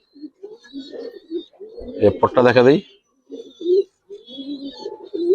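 Giribaz pigeons coo in soft, intermittent bursts close by, while someone speaks loudly over them partway through.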